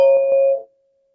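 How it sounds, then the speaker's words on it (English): A single meditation bell struck once, its clear tone ringing out and slowly fading into a long sustained hum, heard alone in a quiet room. "we'll close with the sound of the bell"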